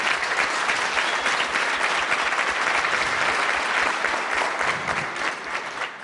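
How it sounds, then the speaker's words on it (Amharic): At a dance crew competition, an audience applauds the dancers with loud, continuous clapping that fades slightly near the end. "በጣም እንድታጨበጭቡልኝ የምፈልገው ማለት ነው የሴቶቹን ኤነርጂ አጨብጭቡለት።"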